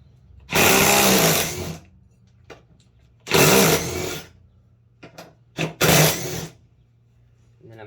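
A half-inch impact gun hammers on a mower deck spindle of a Cub Cadet Z Force S 48 during a rebuild, firing three loud close bursts of rattling with quiet gaps and a few short clicks between them.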